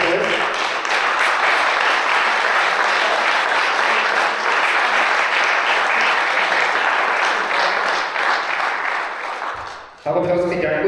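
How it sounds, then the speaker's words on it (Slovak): An audience at a second-anniversary celebration applauds, a dense, loud, sustained wash of clapping lasting about ten seconds before it cuts off and a voice speaks. "Za to im patrí obrovský potlesk."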